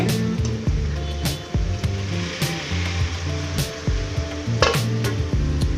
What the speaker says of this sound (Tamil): நான் மூடி போட்டு கொதிக்க வைக்கிறேங்க 2 நிமிஷம்